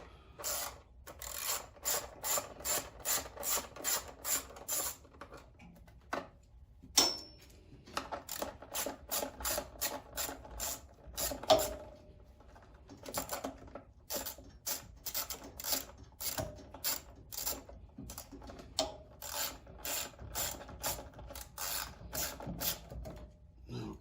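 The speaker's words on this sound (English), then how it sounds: "we're going to go ahead and remove these 6 outer bolts here that hold the center air cleaner cover on" Six outer bolts holding the center air cleaner cover on a Powerhorse 13000-watt generator are loosened with a hand ratchet, giving rapid runs of close, crisp metallic clicking in repeated bursts with brief pauses between them.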